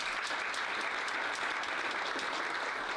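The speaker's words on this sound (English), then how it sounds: "Let's give her a round of applause for that" Seminar audience applauding steadily, a dense, even wash of many hands clapping throughout, fairly close and without pauses.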